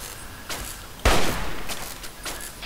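Gunfire in the video game Fallout 3: a light shot, then a louder sharp blast at about one second with a decaying tail, followed by fainter pops, over a faint background hiss.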